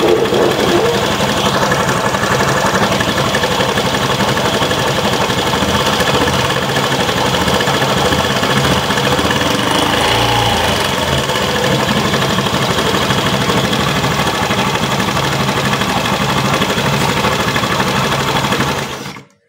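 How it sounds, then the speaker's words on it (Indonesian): A Honda Vario 110 scooter engine with a fault in its left-side engine case runs continuously up close with a loud, rough, rapid rattling grind that holds steady for nearly twenty seconds before cutting off. "suara grosok-grosok memang bisa terjadi di bagian mesin kiri"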